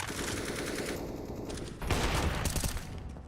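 Gunfire in Counter-Strike: Global Offensive rattles almost without a break, with dense rapid shots throughout. A louder, fuller burst cuts in about halfway through.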